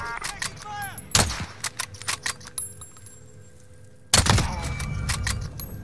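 Video game gunfire during an urban firefight with gas moving in: a quick string of sharp shots, a heavy blast, sparse cracks, then a loud burst of firing after a short lull, near and punchy.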